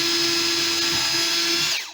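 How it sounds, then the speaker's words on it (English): A power drill bores pilot holes into wood for a first woodworking project, giving one close, loud, steady whine that winds down at the end. "the first little series I'm going to drill here is just going to be some pilot holes for where her screws are going to go to hold this together"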